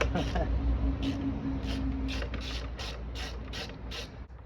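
A ratchet wrench clicks in a steady series of short bursts while bolts come off a Yamaha Virago 250 motorcycle under restoration, loud and close, with someone talking at the start.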